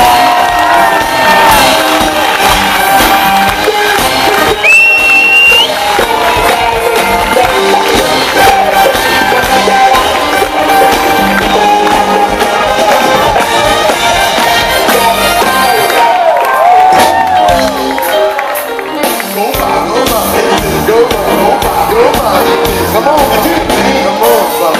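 A big Toronto concert crowd at the CNE Bandshell roars for a singer, loud sustained cheering, whoops and shouts with clapping mixed in, plus a few high whistles, all dense and close.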